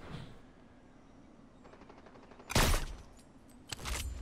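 Gunfire in a Fortnite no-build match comes through as quiet game ambience broken by a sharp, loud shot and then a second burst of fire a moment later.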